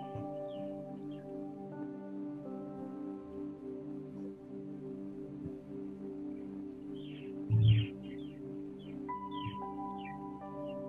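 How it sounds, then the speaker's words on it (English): Faint outdoor birdsong with sparse chirps and twittering calls drifts behind a soft sustained musical drone, growing slightly more active toward the end. "I hear the birds."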